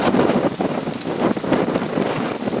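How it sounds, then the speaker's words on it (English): Wind gusts roar across the microphone outdoors at a prairie preserve with mountains nearby, a loud continuous rumbling buffet that swells and eases in waves. "the wind just came up"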